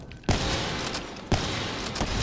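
Gunshots in the Call of Duty: Black Ops III video game, two sharp close shots about a second apart, each followed by a loud sustained roar of combat noise, with no speech.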